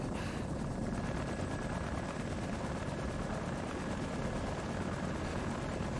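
A helicopter flies steadily and loudly in Far Cry 3, its rotor drone and engine roar filling the scene without break from start to finish.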